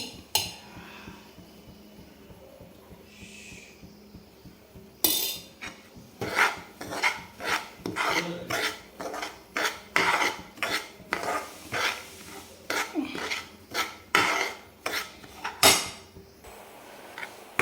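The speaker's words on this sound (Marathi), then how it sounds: "रबाळ होईपर्यंत असा जाडसर होईपर्यंत आपण त्याला परतून घेणार आहे" Semolina sautéed in ghee for modak, stirred in a pan with a spoon; steady metallic scraping and clinks repeat in quick strokes, close and fairly loud after a quiet opening, with no talking.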